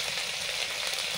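Mustard oil sizzles in a pan, a brief steady hiss and crackle, fairly close, with no talking.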